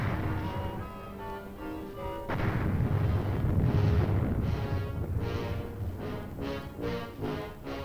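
Korean War artillery fires on enemy bunkers in a string of heavy booms and blasts, some close and loud, others rolling farther off, under dense wartime background noise.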